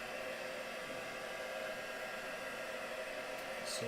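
A hair dryer blowing on a vintage Christmas craft piece, a steady, fairly faint whooshing drone that runs unbroken throughout with no talking.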